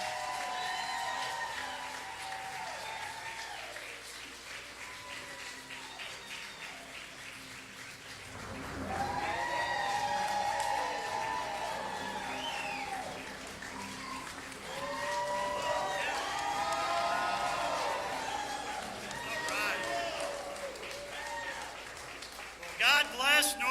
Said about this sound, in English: let's give a round of applause to our next United States Senator from North Carolina, our chairman, Michael Whatley.